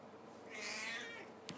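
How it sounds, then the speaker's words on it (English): A house cat gives one drawn-out, faint meow at close range in a quiet room, ending with a small click. "Okay, kitty cat. Say hey."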